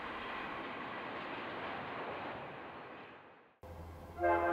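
A westbound Union Pacific train rumbles through a canyon in a broad, steady roar that slowly fades. It cuts to a nearby sustained horn-like tone at the end.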